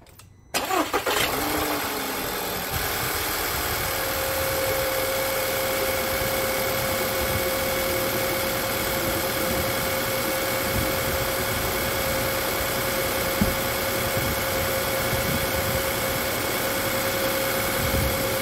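2014 Volkswagen Tiguan with the 2.0 TSI engine starts after a brief quiet moment, then settles into a steady, even idle with a faint whine, heard close and alone.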